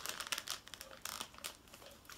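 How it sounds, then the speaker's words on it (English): Plastic packaging from a Kracie Popin' Cookin' sushi candy kit crinkles and rustles up close, with several quick snips and crackles as it is cut, quiet and without talk. "it's so hard to cut plastic"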